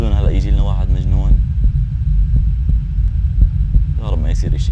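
A steady, low, throbbing heartbeat pulses in the horror video game Pizza Delivery, sitting under someone talking, with faint thumps spaced regularly between his phrases.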